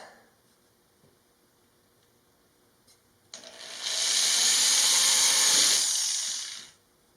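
Power drill boring mounting holes in wood while building a mobile router table; after a quiet start with a faint click, a loud, steady high-pitched whir runs for about three seconds, then winds down and stops.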